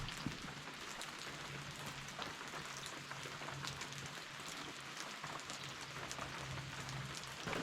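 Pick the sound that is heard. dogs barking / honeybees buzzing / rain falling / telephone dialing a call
rain falling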